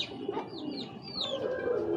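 Army-breed giribaz pigeons coo in low, throaty bursts nearby, mixed with a few brighter chirps from other birds over a steady background.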